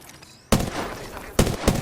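Gunfire in the battle royale game Apex Legends, two sharp bursts of shots, loud and close, with a faint game backdrop between them and no talking.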